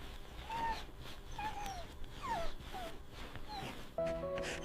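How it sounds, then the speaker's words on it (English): A dog whimpers in distress, giving several short, rising and falling whining cries over a steady background murmur. "The whimper you hear is their own distress response triggered."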